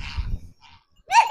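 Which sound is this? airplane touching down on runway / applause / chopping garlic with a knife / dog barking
dog barking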